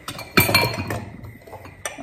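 Glass clinking as a drinking glass is handled among tea-stained cups, with a few light taps and knocks at close range and one sharper clink near the end, and no talking.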